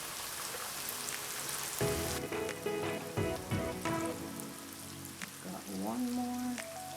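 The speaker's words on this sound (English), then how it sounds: "Just going to cover this, let them fry for 5 minutes" Salt and pepper chicken wings dusted in flour sizzle and crackle in hot oil, a steady hiss with sharper pops and spits, close and fairly quiet, no talking.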